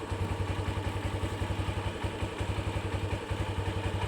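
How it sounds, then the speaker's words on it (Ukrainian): A GEON Pantera motorcycle engine idles just after starting, with a close, rhythmic low-pitched thumping that pulses evenly throughout and carries light mechanical clatter. "Як я і говорив, геончик Пантера заводиться."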